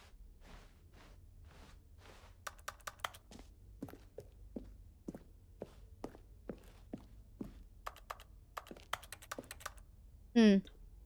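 Keyboard typing in the video game Stanley Parable: Ultra Deluxe, irregular crisp key clacks in bursts, fairly quiet and close, ending with a brief louder tone.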